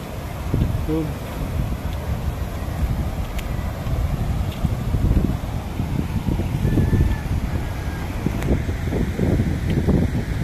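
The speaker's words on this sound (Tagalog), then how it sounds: "Malakas ang baha guys" Strong floodwater rushing across a dump site swamped after three days of rain, a continuous loud roar with wind buffeting the microphone and someone talking over it.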